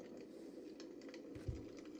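Crackling fire from an ambient sound app, faint, soft irregular pops and ticks over a low steady hiss, with one slightly louder snap partway through and no talking.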